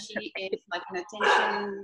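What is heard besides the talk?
dog barking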